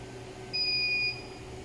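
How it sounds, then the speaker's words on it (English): An RD-171 chemistry analyzer running an aspirated level 1 glucose control gives one clear electronic beep of about half a second over a faint steady machine hum, with no voices. "Then now the machine will start testing this aspirated liquid."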